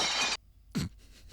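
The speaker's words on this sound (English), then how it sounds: "He broke the glass on the door." Glass in a door shatters in a loud, close burst of crashing shards as a film sound effect in the 1984 comedy Top Secret, cutting off abruptly. A short thud follows, then faint rustling.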